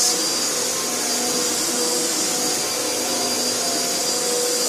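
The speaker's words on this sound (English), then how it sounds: "quite an easy vacuum to push, although it is a bit loud." A loud, steady Panasonic MC-UG522 upright vacuum cleaner motor drones continuously, with a strong high-pitched whine over a broad rushing roar.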